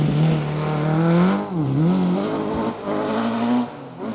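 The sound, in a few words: rally car engine revving on a stage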